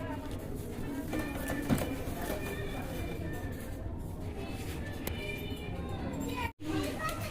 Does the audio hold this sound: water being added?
no